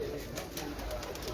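Pigeons coo softly in the background, a low, steady murmur of red-eyed birds, faint and continuous beneath a quiet ambient hiss.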